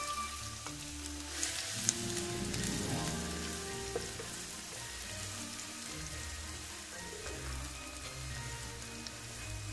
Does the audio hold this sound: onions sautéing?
yes